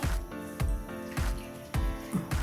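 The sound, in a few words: water poured into pot of aviyal vegetables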